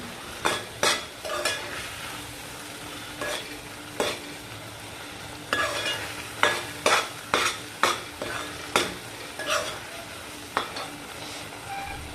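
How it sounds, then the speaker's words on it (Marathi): Vegetables for a black val bean curry sizzle in a pan while a utensil repeatedly scrapes and stirs, producing irregular clinking strokes over a low frying hiss. "हे आपण चांगलं परतून घेऊ"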